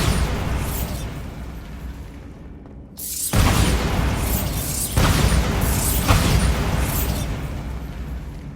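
A Bombarda spell blast in Hogwarts Legacy bursts loudly after a brief hush, followed by a second booming impact and crumbling debris that rumbles on, close and heavy.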